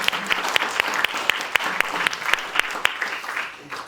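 An event audience applauding, a steady close burst of clapping with many distinct sharp claps, fading slightly at the end.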